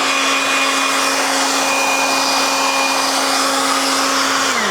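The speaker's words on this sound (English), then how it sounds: "I'm getting the blower going here." A car dryer blower roars continuously, blowing water off a car, with a steady high whine, close by and unbroken, its pitch dropping slightly near the end.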